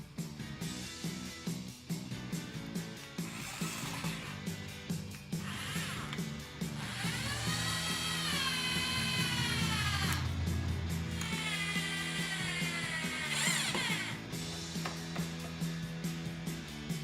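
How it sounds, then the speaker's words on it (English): Power drill driving pocket hole screws into wood while joining boards for a utility table, with steady whirring bursts that rise and fall in pitch, close and fairly loud, over a background of music. "Now I'm going to come in with some pocket hole screws,"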